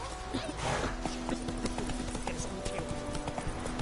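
Roach the horse in The Witcher 3 trotting with brisk, evenly spaced hoofbeats close by, a brief voice heard early on.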